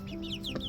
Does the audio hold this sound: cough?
no